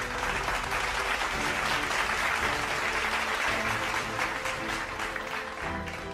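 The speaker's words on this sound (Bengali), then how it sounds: "তার জন্যও একটি জোরে করতালি।" A crowd gives steady, continuous applause for a prize winner at the Tiger Run charity race in Dhaka, 2025. The clapping stays fairly even, then eases slightly toward the end.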